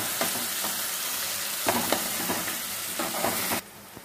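Onion, ginger and garlic paste frying in a pan for baby potato masala curry, a steady close sizzle with a few stirring scrapes, cutting off abruptly near the end; no one speaks.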